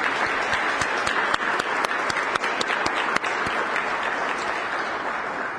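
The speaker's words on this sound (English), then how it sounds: "So please give all of our commissioners and Lee Todd a round of applause" Audience at a police chief's swearing-in ceremony applauds, steady dense clapping with a few sharper individual claps standing out, sustained and fairly close throughout.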